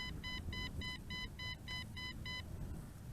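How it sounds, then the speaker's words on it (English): A hand-held drone remote control (for an MJX B4W or JJRC X11 quadcopter) beeps a rapid series of about nine short, evenly spaced tones at its range limit, over a low outdoor rumble. "Okay, starting to beep"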